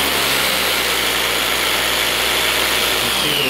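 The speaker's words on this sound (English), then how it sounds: "we're almost out of fuel in the Harbor Freight generator" Cheap Harbor Freight portable generator running nearly out of fuel while powering a jigsaw load of about 540 watts, a loud, steady close engine drone with no talk.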